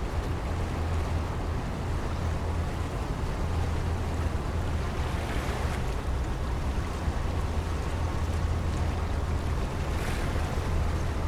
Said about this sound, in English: those waves there in the wake are, yeah, pretty cool actually